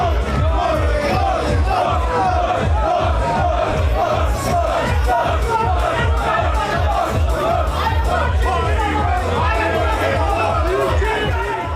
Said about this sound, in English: I think this crowd in Bish are chanting "none," which is French for no